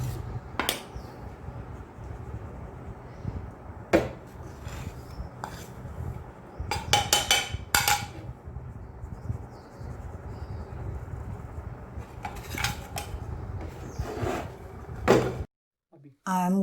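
Sponge cake batter is mixed by hand in a bowl, producing intermittent clinks and scrapes of utensil against the dish, some sharp knocks, with speech in places.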